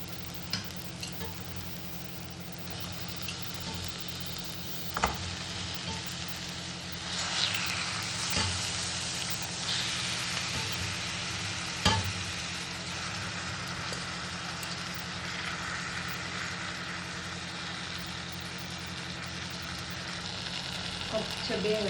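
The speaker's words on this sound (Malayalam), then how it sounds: "അപ്പം ഇതിലേക്ക് കോഴിയിടാം" Chicken pieces frying in a pan with chilli powder and cumin powder for a spicy chicken roast: a steady, moderate sizzle with a low background hum and a few sharp clicks of stirring.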